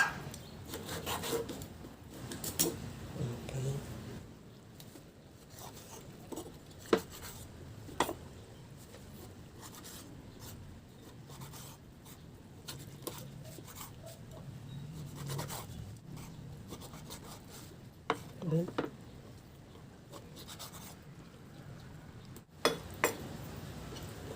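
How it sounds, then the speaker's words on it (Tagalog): Boneless dried milkfish (daing na bangus) being cut into small pieces on a board, a soft scraping, rubbing rasp with scattered light knife taps and clicks, fairly quiet and close, with no talking. "Mayroon ako ditong isang pirasong daing na bangus na boneless. Tanggalin ko lang yung ulo. At hiwain ko lang ng maliliit."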